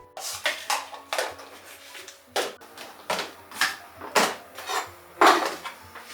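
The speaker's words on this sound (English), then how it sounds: "We chop the vegetables I will be using across different meals: carrots, beans, capsicum, onions" Knife chopping carrots, beans, capsicum and onions on a board for Indian meal prep, a steady run of about a dozen close, crisp thuds and clacks at an uneven rhythm, with no voices.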